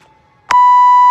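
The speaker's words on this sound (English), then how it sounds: "We're gonna go ahead and start our timer in 5 seconds." A workout interval timer gives a single loud, steady electronic beep that starts abruptly about halfway through and holds to the end, following a quieter beep-like tone.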